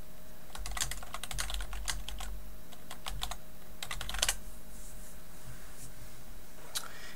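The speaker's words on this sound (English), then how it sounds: "I'm actually going to go and type a message from share" Typing on a computer keyboard while writing a message in a shared Google Drive document: quick bursts of close, crisp key clicks with short pauses between, alone over a faint steady hum.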